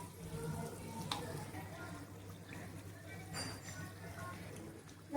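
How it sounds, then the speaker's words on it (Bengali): Lobongo latika sweets deep-frying slowly on low heat give a steady, soft sizzle and hiss over a low hum, with a few faint clinks, continuous for about five seconds. "এইভাবে একটু সময় নিয়ে যদি আমি ভাজি লো আঁচে"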